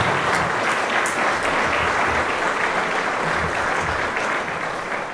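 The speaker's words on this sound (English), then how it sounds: "Let's give them a wee round of applause" Audience at an evening gospel praise night in Newtownards applauds the singers, steady dense clapping filling the hall for about five seconds without letup.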